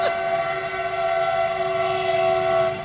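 A passing train's horn holds a loud, steady, close tone for nearly three seconds over rumbling rail noise, then eases slightly at the end; no speech.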